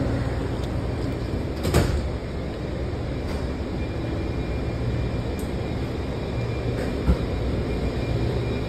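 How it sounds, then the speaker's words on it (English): Doors open on a Washington Metro Green Line train, a steady rumbling hum inside the car with a couple of brief thumps and clanks as the doors slide. "Step back. Doors open."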